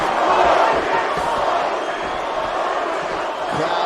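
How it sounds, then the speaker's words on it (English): A UFC arena crowd roars steadily during a title fight in Oklahoma City, a dense, loud wall of cheering and shouting that holds for the whole stretch. "Crowd trying to urge Covington on here."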